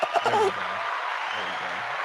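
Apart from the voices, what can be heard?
applause sound effect played from a soundboard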